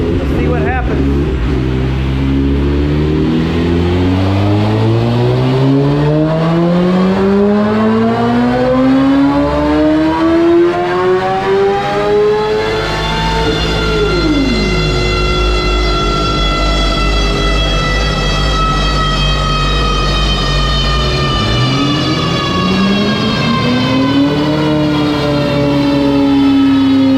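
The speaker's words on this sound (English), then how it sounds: "Round 2 on the dyno pull." A 2021 Kawasaki ZX10R fitted with a titanium exhaust screams through a dyno pull, its loud engine note climbing steadily in pitch through the gears, dropping sharply on a shift around the midpoint, then rising again toward the end.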